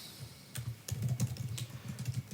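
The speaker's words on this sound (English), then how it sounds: "So what we're going to do is we're going to type to Jasmine here." Computer keyboard typing in short irregular bursts of keystrokes, close and fairly quiet, with no voices.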